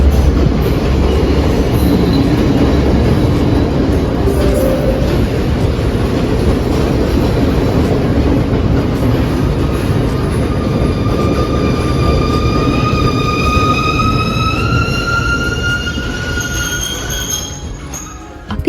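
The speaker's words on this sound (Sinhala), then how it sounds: "ඊට පස්සේ තමයි අපේ ට්‍රේන් එක ආවේ" Train pulling into a station in Sri Lanka: loud, close rumble of rolling wagons with rhythmic clatter, rising wheel squeal toward the end as it slows.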